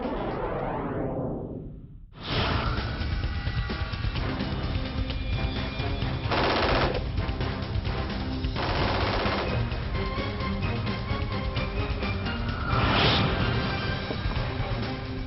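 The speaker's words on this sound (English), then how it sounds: "What a gorgeous day to test your prowess with that full automatic M16." A full automatic M16 rifle fires on a sunny outdoor training range, in dense, loud rapid bursts of gunfire that continue almost without pause, after an opening descending whoosh.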